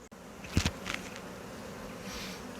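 Bees buzz around the comb of a top bar hive during an inspection, a steady close hum with a couple of brief louder bursts as individual bees pass near, and no voices.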